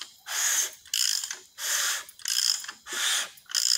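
A freshly assembled bottom end of a high-performance street engine is turned over by hand with a wrench, giving a steady series of rhythmic ratcheting clicks in roughly half-second bursts, close and clear with no talking.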